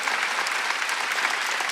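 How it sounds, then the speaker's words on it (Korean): Church congregation applauding together, a steady, full round of clapping from many hands that carries evenly throughout. "하나님이 기뻐하시고 계시고 박수하세요."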